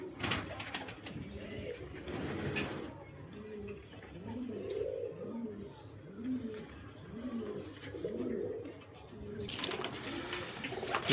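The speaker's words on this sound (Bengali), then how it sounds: "এই হলো কবুতর জোড়াটা" Close, repeated cooing from a pair of Teddy pigeons rises in the middle stretch, a rhythmic series of rolling coos over a noisy background with brief bursts of other sound at the start and end.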